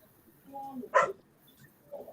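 A dog gives a single loud bark, heard partway through a live stream call, with faint softer sounds and some voice-like tones around it before and after.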